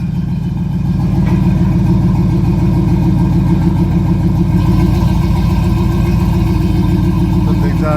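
A 2004 Chevy truck engine runs with no exhaust fitted, a loud, raw, rumbling idle that rises slightly after the first second and then holds steady and close.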